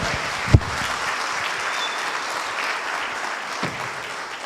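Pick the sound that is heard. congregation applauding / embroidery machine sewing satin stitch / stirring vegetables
congregation applauding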